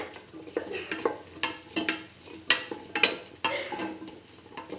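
A spoon stirs a split chickpea and chayote stew with mixed spices in a pan, giving repeated soft scrapes and light clicks with a faint sizzle underneath, close and fairly quiet.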